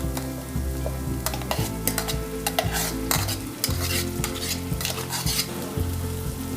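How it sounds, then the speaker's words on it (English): Chili paste sizzles with browned garlic in a hot pan for Schezwan sauce, stirred with repeated spoon scrapes and clinks over a steady, close, loud frying hiss; a low background tone runs underneath. "Now to this, add the chili paste."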